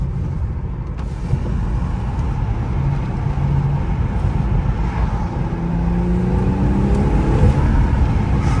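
A 2020 BMW M340i with the B58 engine and stock exhaust revs in sport mode, a steady, close engine roar with rising pitch sweeps as it accelerates, no talk over it.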